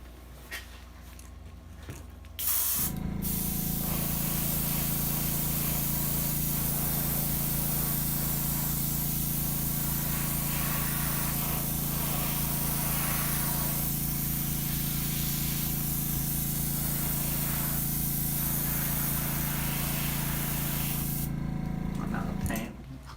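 An airbrush sprays paint onto a crankbait fishing lure in one long, steady hissing burst lasting about twenty seconds, with a low compressor hum beneath, starting and stopping abruptly.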